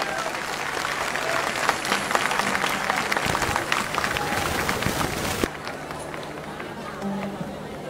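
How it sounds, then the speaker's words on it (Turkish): A crowd at a gathering in Bergama bursts into loud, thick applause for Cemal for about five seconds, then it cuts off sharply, leaving a quieter room with a voice speaking. "Kocaman bir alkışla Cemal'im için."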